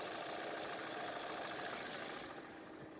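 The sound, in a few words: car engine idling smoothly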